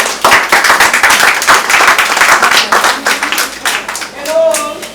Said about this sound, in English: So you should clap for her.